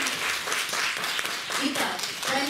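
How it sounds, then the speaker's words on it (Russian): Applause from an audience at a school recitation contest for students, moderately soft and steady clapping with a few voices murmuring over it. "Аплодисменты?"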